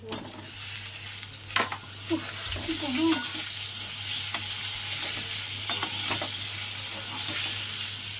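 Food fries in a pan while being stirred, a steady sizzle broken by scraping stirs and clatters, close by, with faint voices in the background.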